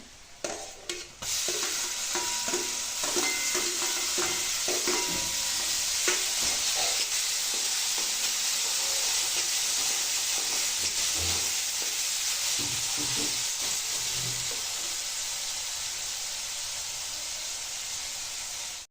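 Tomatoes frying for a mixed vegetable dish, a steady loud sizzle running throughout with scattered stirring scrapes and clinks of a spoon in the pan, no voices.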